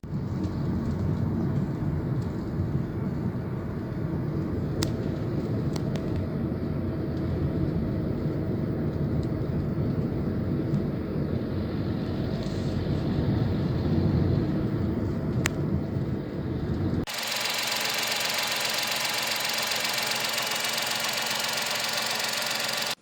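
A Tata Altroz car's engine runs with a steady, low, rumbling drone and faint ticks, then the sound shifts abruptly to a thinner, airier hiss near the end.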